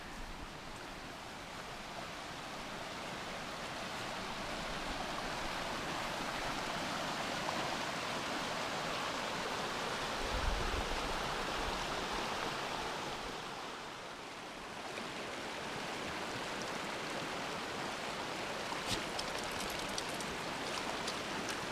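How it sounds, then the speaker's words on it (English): A woodland creek flowing beside a campsite spot, a steady, full rushing of water that holds constant throughout with a soft low rumble partway, no talking. "right here is the creek"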